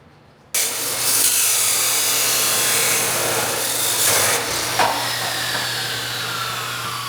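A chop saw grinds loudly and steadily through metal roll-cage tubing, a harsh continuous screech starting abruptly after a brief quiet moment and holding for several seconds.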